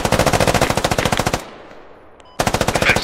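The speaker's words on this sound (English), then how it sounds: "Close AK. Really close, like across the street, southeast." Close AK rifle fire in the video game Squad comes as two loud rapid automatic bursts separated by a brief echoing lull.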